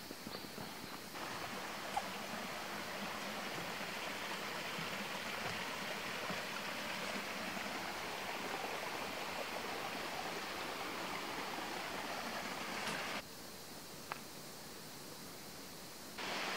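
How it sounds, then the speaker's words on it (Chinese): A mountain stream flows steadily along a forest trail toward a waterfall near Smangus, Taiwan, making a continuous broadband rush that holds level throughout and dips slightly toward the end. "有啲水声。"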